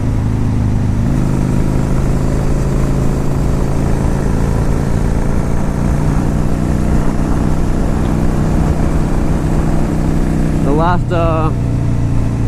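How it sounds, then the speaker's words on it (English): A 2002 Honda VLX 600 Shadow fitted with Cobra pipes rides along with a steady, low engine drone throughout, mostly under continuous wind noise, with a brief gear-change surge near the end. "It's not too loud, even though it's got them Cobra pipes on it."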